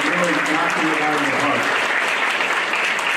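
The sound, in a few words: audience applause at a band concert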